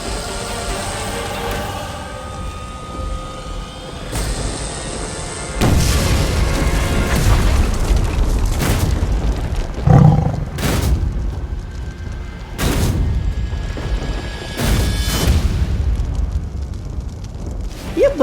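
A series of loud booming bursts, several sharp cracks in succession like fireworks, with rumbling tails between them.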